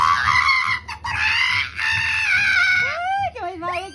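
A person imitates a chicken by voice during an animal-sounds guessing game, giving a short run of vocal clucking and crowing-like calls with rising and falling pitch, close to the microphone.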